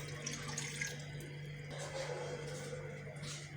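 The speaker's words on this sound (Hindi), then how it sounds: "कढ़ाई मैंने चूल्हे पर रख दी है और इसमें देखिए मैं 1 प्याली पानी की डाल रही हूँ" A cup of water is poured into a wok sitting on a stovetop, making a quiet, steady splashing pour over a low, constant background hum.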